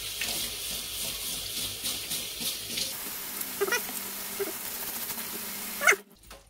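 Food rinsed under a running kitchen tap, a steady close splash of water that cuts off, followed by a few soft clinks and handling sounds near the end.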